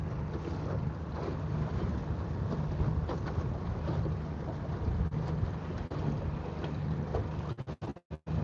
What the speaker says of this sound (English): that wind is really starting to pick up